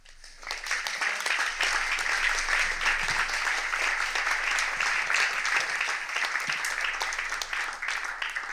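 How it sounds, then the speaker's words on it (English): An audience applauds a lecturer at a talk on culture, with steady, full clapping sustained for several seconds and a few scattered whoops. "and a warm applause for Nato."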